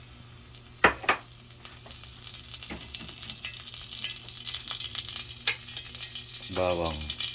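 Cooking oil hisses and sizzles steadily in a pan, with a few sharp pops and clinks early on and a brief utensil scrape near the end.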